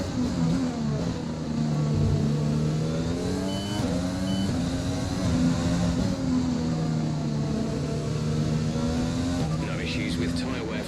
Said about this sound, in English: Shifting up early there in the 7th gear just to save fuel.